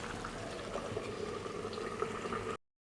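Chicken black pepper karahi gravy cooking covered over a high flame, giving a steady close bubbling and sizzling hiss that goes on without a break before stopping abruptly.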